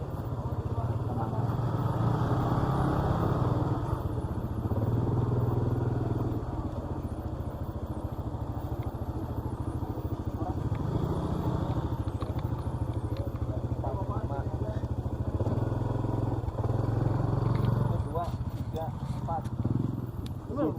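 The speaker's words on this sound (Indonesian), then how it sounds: "Motor kopling kan, tarikannya beda." A clutch-type motorcycle engine drones steadily while being ridden on a village-road tour, a continuous close rumble that rises and falls slightly, with voices talking over it throughout.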